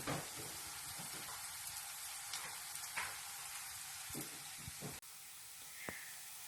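Jerusalem artichoke fritters sizzle and crackle steadily in hot coconut oil in a pan, with occasional pops and soft clinks, a constant frying hiss throughout.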